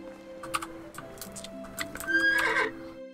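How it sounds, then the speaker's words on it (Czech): A horse in the video game Medieval Dynasty neighs with a clear whinny and trots with quick clip-clop hoofbeats, fairly close and faint overall, with no talk over it. "tak zavoláme si koně"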